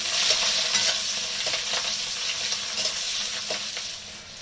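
Whole garlic cloves and chopped onion dropped into hot oil with dried chillies for a Bengali greens dish, a dense continuous sizzle with light stirring scrapes, close and fairly loud, no voices.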